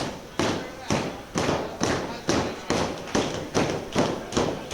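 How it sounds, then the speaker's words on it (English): Wrestling fans pound their hands on the mat at an indie pro wrestling show, a loud rhythmic thumping of roughly ten beats at a steady pace, close and uninterrupted. "the Flophouse denizens banging their hands on the mat"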